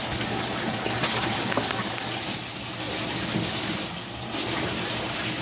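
Water gushes steadily into an aquaponic fish tank with an overflow skimmer, a loud, continuous rushing flow with brief dips in intensity, close by and without talk.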